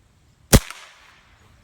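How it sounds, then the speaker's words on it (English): A Benjamin Maximus .22 PCP air rifle fires a single sharp crack, close and loud, followed by a short fading tail and then quiet. "Well, let's get to shoot and see what this thing can do."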